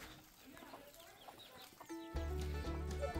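Chickens cluck and chirp faintly on a countryside farm, then a much louder, sustained tonal sound enters partway through and swamps the birds.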